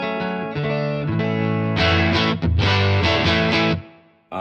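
An electric guitar runs through a Helix modeler on a Fender Princeton Reverb amp preset, with the volume rolled back for a clean tone. Sustained chords ring loud and close, shifting a few times, then cut off near the end.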